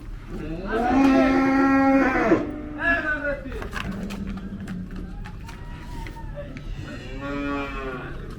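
Cattle at a large livestock market in northern Iran moo loudly and close by, with several long bellowing calls separated by short gaps over a busy background of market noise and voices.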